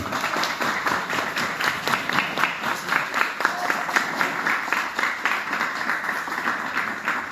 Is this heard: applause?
yes